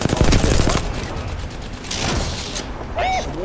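Rapid bursts of automatic gunfire in Apex Legends on the World's Edge map, dense crackling shots at the start, then scattered shots and mechanical clicks.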